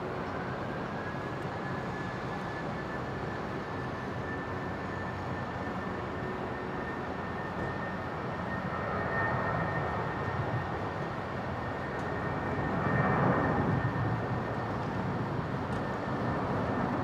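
A Jetstar airliner lines up and departs a runway at Brisbane airport, heard from a distance as a broad, steady jet roar that slowly builds in loudness over many seconds, with a faint whine running through it.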